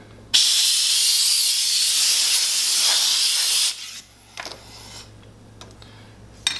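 Compressed air blasts across a steel knife bevel jig after filing, a loud steady hiss lasting around three seconds, followed by quieter handling noises and a few short knocks.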